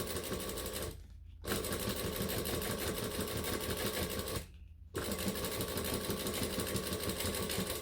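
A sewing machine top-stitches a clutch bag in long steady runs, a continuous close mechanical whir that stops briefly twice as the fabric is repositioned.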